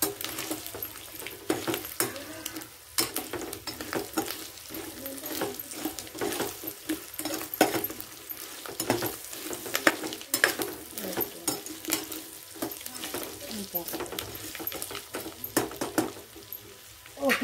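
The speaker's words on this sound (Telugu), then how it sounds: "వేగేటప్పుడు జాగ్రత్త అండి, తోలుతుంది, కొంత దూరంగా ఉండాలి." Fish frying in hot oil in a village kitchen, a steady crackling sizzle with stirring scrapes and occasional pan clinks throughout, no voices.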